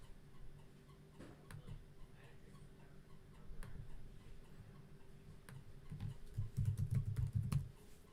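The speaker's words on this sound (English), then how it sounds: "I'm just typing this out, making sure it's under 25." Keyboard typing from a player at a Dungeons & Dragons tabletop session, faint scattered key clicks that grow denser and louder toward the end over a low room hum, with no talking.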